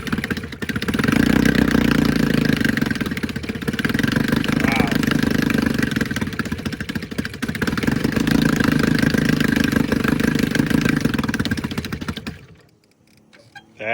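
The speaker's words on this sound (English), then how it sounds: "I'm wondering if it starts better now with a cold start. I'm gonna try it no choke." A 1969 Johnson 9.5 hp outboard motor, started cold without choke, runs loudly and steadily close by with a rough, buzzing drone for about twelve seconds before cutting off abruptly.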